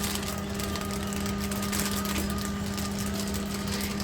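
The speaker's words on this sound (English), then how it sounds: "it's not the fans running, it's the vacuum running." A steady motor drone with a constant hum runs without a break, like a vacuum cleaner running nearby.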